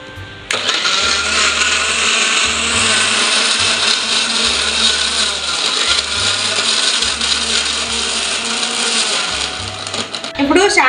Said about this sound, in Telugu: ఇప్పుడు ఇది మిక్సీ పట్టుకుందాం.